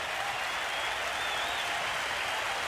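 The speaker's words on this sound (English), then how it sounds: "The crowd appreciate the captain's knock." A crowd at a packed Sydney Cricket Ground one-day final applauds a captain's innings, a steady, dense wash of clapping at moderate distance with no break.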